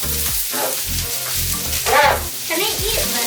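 Seafood chow mein noodles stir-fried in a hot pan with chili sauce, giving a steady close sizzle and scraping with faint voices in the background.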